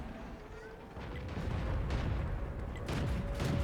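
A British Cruiser Mk. 4 tank's gun fires in World of Tanks amid heavy, rumbling booms and a continuous low battle roar that swells and stays loud.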